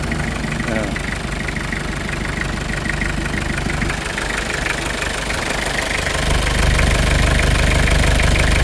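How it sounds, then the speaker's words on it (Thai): Engine of a 1990 Toyota Hilux Mighty three-door pickup idling steadily and smoothly, a close, constant low rumble with someone talking over it throughout. "อันนี้ติดสตาร์ทเครื่องเรียบร้อยครับ"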